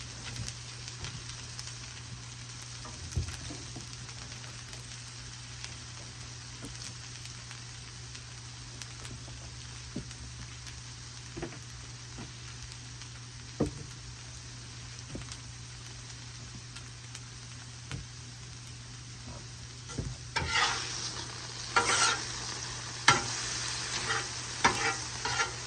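Teriyaki chicken and fried rice sizzling in a pan, a quiet continuous frying hiss with occasional stirring clicks and scrapes, growing louder and busier toward the end.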